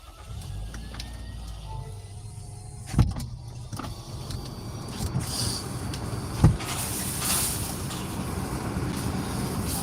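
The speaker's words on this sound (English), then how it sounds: "Okay, I'm turning my car on." A Chevrolet Spark is switched on: a few clicks and thumps, then the engine settles into a low steady idle that swells slightly toward the end, with no talking.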